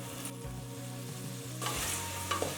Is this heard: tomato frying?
yes